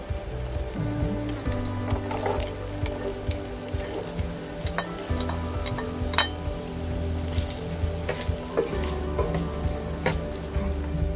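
Green beans go into pancit frying in a pan, giving a steady close sizzle with stirring scrapes and occasional clinks of a utensil against the pan throughout.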